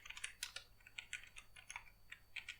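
Quiet, close typing of code on a computer keyboard, a rapid, irregular stream of light key clicks.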